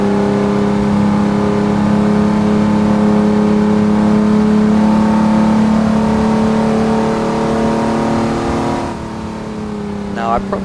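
A car engine in a racing video game on a coastal highway, droning loudly and steadily as it gains speed, then easing off near the end under a brief voice.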